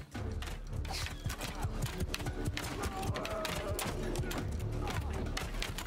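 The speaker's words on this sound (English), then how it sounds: "It's just so nice, the sounds and everything. Our horse archers as well, our own cavalry." Cavalry horses gallop in Mount & Blade II: Bannerlord, a dense, continuous rush of hoofbeats and battle clamour held at a steady loud level throughout.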